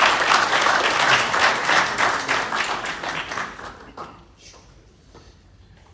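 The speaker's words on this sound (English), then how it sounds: "So clap for yourselves for being in the right place at the right time." A crowd at a diaspora property showcase bursts into full applause that thins out and fades to scattered claps and quiet within a few seconds.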